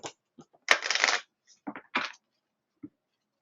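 Board game pieces shuffled by hand during a Kinfire Chronicles session: a few short rattling, clattering bursts with pauses between them, close and fairly quiet, no talking.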